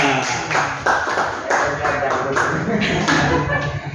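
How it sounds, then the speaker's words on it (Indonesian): An audience at a teacher education dissemination session claps hands in a sustained round of applause. The clapping is moderately loud and dense, and voices mingle underneath. "Tepuk tangan dulu buat Bu Folia."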